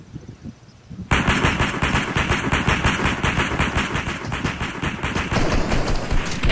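Heavy machine gun fire in a video game rattles in a sustained, rapid burst of loud shots lasting several seconds, with no one talking over it.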